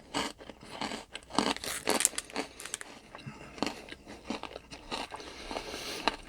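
Close, crisp crunching and chewing of a UK candy bar, a series of irregular bites and crackly chews with short pauses, alone without talk.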